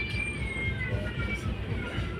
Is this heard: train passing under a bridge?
yes